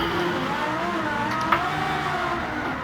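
A Porsche Carrera GT engine in Gran Turismo holds a steady, droning mid-pitched tone throughout, with one faint click partway; no speech.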